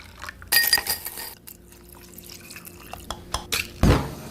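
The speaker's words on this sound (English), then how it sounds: "Now add 1 more cup of milk if you like it creamy" Milk poured into a glass of homemade horchata, heard as bright glassy clinks and short splashing bursts close to the mic, separated by quieter gaps with small drips.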